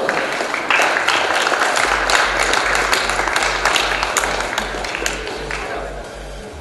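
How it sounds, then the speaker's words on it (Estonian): Applause at a 2014 e-sports award ceremony at TTÜ: dense crowd clapping fills the room, steady and close, slowly thinning toward the end, with a low rhythmic thump beneath it. "Aplaus."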